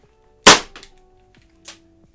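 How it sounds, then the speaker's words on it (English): A CO2-powered Staccato airsoft pistol fires one loud, sharp shot up close. A faint mechanical clack follows, then a softer click about a second later. "This here is a CO2 baton staccato. This has some of the, when it's not jamming, has some of the strongest recoil."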